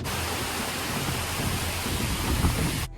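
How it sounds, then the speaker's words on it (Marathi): Rain beginning to fall at the monsoon's first onset, a dense, steady hiss of drops on surfaces that stops abruptly near the end. "माझं बोलणं सुरू असताना पहा इथे पाऊस सुरूसुद्धा झाला आहे"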